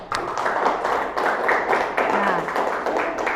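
Applause from a class of students during group presentations in an Islamic jurisprudence lesson, a few seconds of irregular hand claps mixed with chatter and voices, fairly close and moderately loud.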